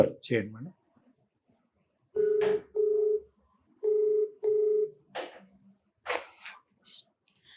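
A telephone is dialed to call Alekhya, with a series of clear, evenly spaced keypad tones between short bursts of nearby talk.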